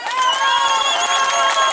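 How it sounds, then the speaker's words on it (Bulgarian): A crowd cheers and shouts steadily at a motorsport awards ceremony for the Shipka 2013 car race, a dense sustained roar of voices with whistles, fairly loud and close. "Аплодисменти за шампионите от Казанлък Моторспорт."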